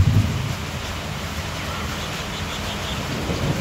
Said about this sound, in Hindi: इस बारिश का भी बहुत ज़रूरत है हमें।